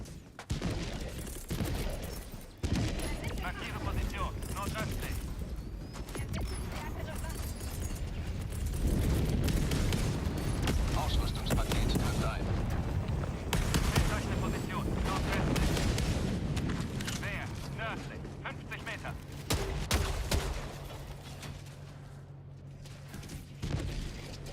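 Mortar artillery in the Helldivers 2 video game fires on a city as a long rumbling barrage of booms and blasts, heavy and sustained, with players talking over the explosions.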